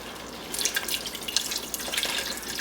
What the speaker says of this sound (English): And to this we're going to add 32 ounces of beef stock.